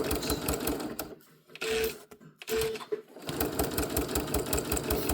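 A sewing machine stitches down a handmade tag cut from fabric scraps, running in steady rapid bursts that pause briefly twice before resuming, loud and close with no talk.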